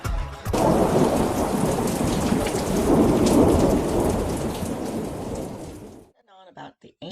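A heavy thunderstorm with dense, steady rain and deep rolling thunder fills the air for about six seconds before the sound cuts off, leaving brief faint noises.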